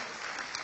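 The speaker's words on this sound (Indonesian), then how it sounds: "Kasih tepuk tangan dulu yang meriah buat Tuhan" Church congregation clapping together in a steady, dense wash of applause, loud and close, with no voices rising above it.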